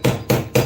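A hammer smacks tight rivets on a WWII M1 helmet in three sharp, loud, close metallic blows in quick succession.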